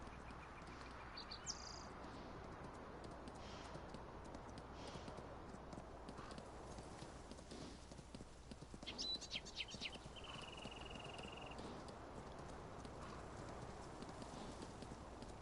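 Horses on a Canadian farm ranch clip-clop faintly and steadily in the distance under a constant outdoor hiss, with a few birds chirping now and then.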